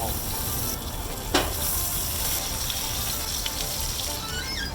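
Steaks sear in a cast iron pan with butter, giving a steady, loud, close sizzle throughout with a couple of faint clicks and scrapes, and no voices.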